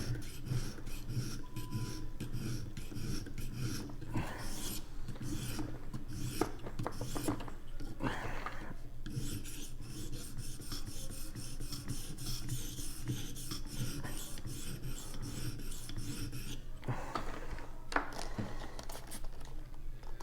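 A metal blade is drawn repeatedly across a Vipersharp sharpener, producing quiet, raspy filing strokes in an uneven rhythm, with scraping bursts and brief pauses, close up and without talk.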